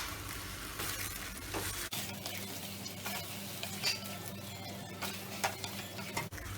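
Chicken curry being stirred and fried in a kadai over a medium-to-high flame, with a steady close sizzle and occasional soft scrapes of a spoon running under it.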